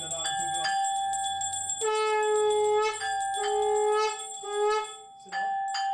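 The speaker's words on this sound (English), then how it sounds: "I am now going to ring the bell" A ritual hand bell rings during a Hindu puja, clear sustained metallic tones struck in several bursts, close and prominent, with a low voice chanting faintly underneath.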